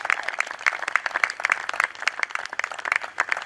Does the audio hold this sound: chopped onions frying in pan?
no